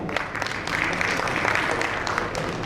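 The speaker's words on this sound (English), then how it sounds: "A huge round of applause for Mr." Audience applause for a guest invited on stage at a corporate panel event on AI and automation in debt collection, a steady broadband clatter of clapping that builds after a brief start and holds for a few seconds.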